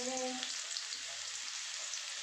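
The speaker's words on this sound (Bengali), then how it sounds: "এখন আমি এই তেলের মধ্যেই কিছুটা রসুন, মানে 7-8 কোয়া রসুন আমি কুচিয়ে দিয়ে দিয়েছি।" Chopped garlic, seven or eight cloves, sizzles steadily in hot oil in a wok while egg fried rice is being made; a loud, dense crackle fills the whole stretch, with a brief tonal hum at the very start.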